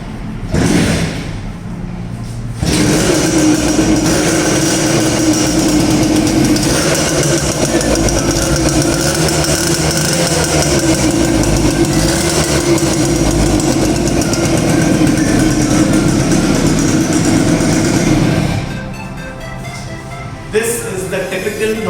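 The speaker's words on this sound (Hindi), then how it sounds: "This is the typical noise of that 2-stroke engine, which is very nostalgic." A modified Suzuki Max 100 R two-stroke motorcycle revs and runs steadily for about fifteen seconds, its exhaust loud and close with a buzzing, raspy drone before it drops off near the end.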